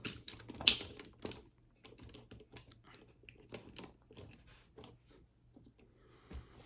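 Plastic parts of a Cybertron Optimus Prime toy click and snap as they are folded, giving scattered close, light taps and clicks with short quiet gaps between them.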